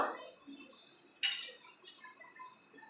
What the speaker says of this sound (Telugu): ఫస్ట్ నేను రాళ్ళు వేస్తున్నాను చూడండి ఒక రాయి వేస్తున్నాను